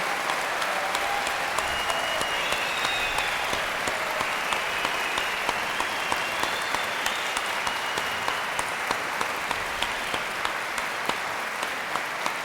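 An audience at a Cultura FM radio anniversary celebration claps steadily for former station directors, a dense, sustained round of applause with scattered louder claps throughout.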